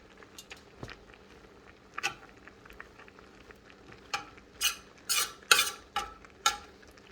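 A serving spoon spreads and levels chicken or beef biryani rice in a pot, making soft scraping strokes that grow into a run of louder, close scrapes and taps in the latter half.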